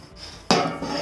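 A bread loaf in a metal pan by a fireplace, flipped over with one sharp metallic clank followed by a softer knock, close and loud.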